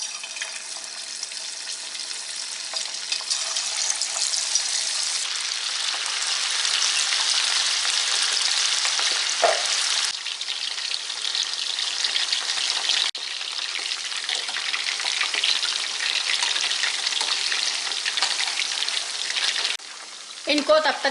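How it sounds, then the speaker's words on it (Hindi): Marinated beef pieces deep frying in hot oil for beef chilli, a steady loud sizzle and crackle that carries on without pause, briefly disturbed by a few soft clinks and stirring noises near the middle and end. "अब फ्राई कर लेते हैं।"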